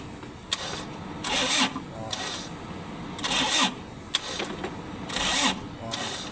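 A Toyota HiAce van with a hard-starting problem, its starter cranking in repeated bursts of about a second each with short pauses between, the engine failing to catch; recorded close up.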